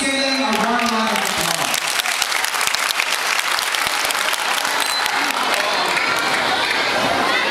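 A large audience applauds and cheers at a village event in St. Martin village, San Antonio, after a school drama group's special number. Loud, dense clapping with cheers and shouting runs steadily throughout.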